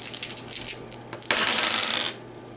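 Three six-sided dice tumble and clatter on a hard surface during a tabletop roleplaying game, a bright rattling burst that settles after a couple of seconds, with no talking.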